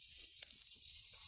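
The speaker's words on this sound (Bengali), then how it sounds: "মাংসটা ভাজা হচ্ছে" Meat sizzles faintly in hot oil in a wok, a soft, even hiss with no voices over it.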